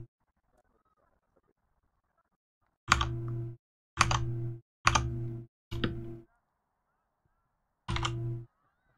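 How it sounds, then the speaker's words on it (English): Loud computer keyboard typed in short separate bursts of rapid clacking keystrokes, five clusters spaced a second or so apart against a quiet room, with no talking over them. "My keyboard's quite loud, isn't it?"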